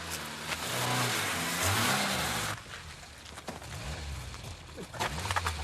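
A car engine revs loudly and pulls away in a 1980s British crime reconstruction, the roar swelling over the first couple of seconds and then easing into fainter engine noise mixed with scattered clatter and muffled shouting.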